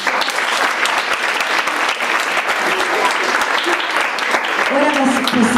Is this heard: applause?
yes